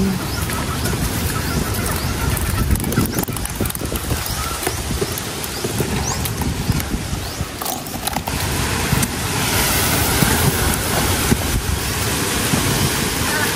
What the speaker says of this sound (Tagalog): malakas pa rin ang hangin